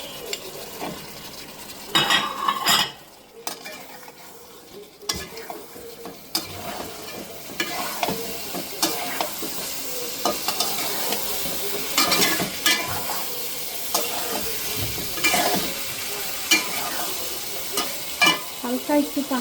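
Fried cauliflower and potatoes are tipped into spiced oil for a rohu fish curry and stirred; a steady sizzle runs throughout, broken by repeated close scrapes and clinks of a spatula against the pan.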